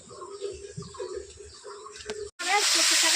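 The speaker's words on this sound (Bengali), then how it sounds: "এখন উনানে আমি দিয়ে দিচ্ছি তার শাকটা" Taro greens (kochu shak) dropped into a hot pan on a stove, bursting into a loud broad sizzle and hiss at the end, after a stretch where someone talks over quiet kitchen sounds.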